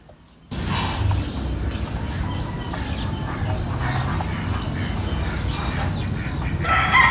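Chickens on a farm, clucking and a rooster crowing amid a steady dense rustling backdrop, close and continuous, no talk.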